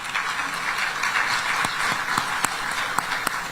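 A large audience applauds at a Korean presidential business forum, steady dense clapping with a few sharper claps standing out close by.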